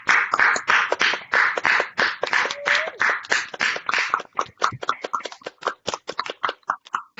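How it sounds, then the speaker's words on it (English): Audience applause arriving over a video call at a virtual symposium, a dense stretch of clapping that thins into scattered, separate claps toward the end, with no voices. "Unmute yourselves again just to give all of our fellows another round of applause."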